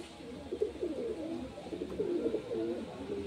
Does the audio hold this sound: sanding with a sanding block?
no